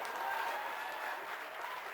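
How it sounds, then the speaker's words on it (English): A crowd applauds and cheers after a speech, a dense, steady wash of clapping heard at moderate distance for a couple of seconds. "Washington's speech brought a cheering crowd to their feet."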